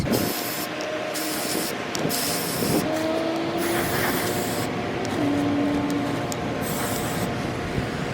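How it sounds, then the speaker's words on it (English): Repeated hissing bursts of a Rust-Oleum Ultimate Ultra Matte spray paint can, several sprays of a second or more separated by short pauses, close by against faint background noise. "I'm using the Rust-Oleum Ultimate Ultra Matte spray paint."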